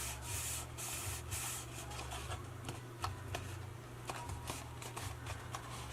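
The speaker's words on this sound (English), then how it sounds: "I'm pulling it towards the front. So I'm rubbing." Close, steady rubbing of a paper edge on a 3D Halloween jack-o'-lantern craft, a soft papery scrape repeating in short rhythmic strokes with faint ticks, quiet and without talk.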